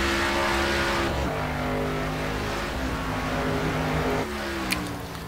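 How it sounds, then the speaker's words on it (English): The number 18 Z-Line Toyota Camry race car pulls out onto the track in a racing game, its engine droning steadily, then shifting pitch as it accelerates, loud and close. "watch James Heater come out to the track on the number 18 Z-Line Toyota Camry"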